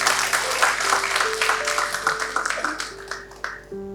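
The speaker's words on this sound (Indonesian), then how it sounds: "tepuk tangan dulu buat Tuhan" A church congregation breaks into applause, a few seconds of brisk clapping over sustained keyboard chords, fading out as the music carries on.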